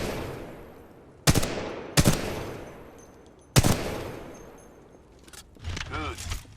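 Three loud, sharp gunshots ring out in the shooter Titanfall 2, spaced about a second or more apart, each trailing into a decaying echo, before quieter game sounds and a brief voice follow.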